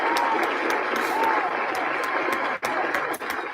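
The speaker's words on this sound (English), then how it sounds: "Let's give them all a huge round of applause and cheer." Dense, steady applause from a school celebration assembly crowd fills the whole stretch, clapping loud and continuous with a couple of brief dips near the end.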